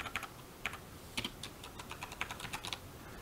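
Keys clicking on a computer keyboard in quiet, irregular bursts of taps at close range, with no voices.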